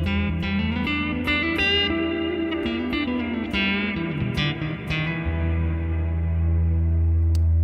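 An electric guitar plays through the Neural DSP Rabea plugin on the HB Fat Clean preset, with picked chords and notes ringing out over a sustained low tone, and effects adding echo and reverb, alone with no talk.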